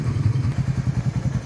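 Suzuki Raider 150 fuel-injected motorcycle engine idling close by, a steady low, lumpy putter with a regular pulsing rhythm throughout.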